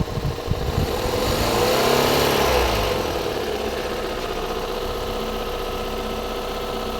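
A Toyota Corolla 2E engine, repaired after smoking and burning oil, runs close by with a steady idle, briefly revving up and settling back into a continuous loud hum.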